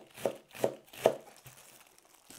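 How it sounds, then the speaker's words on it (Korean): A knife chopping cabbage on a board for soybean paste kimchi: three crisp, evenly spaced cuts followed by a couple of softer strokes, close and fairly quiet, with no talking. "일단은 양배추부터 썰겠습니다"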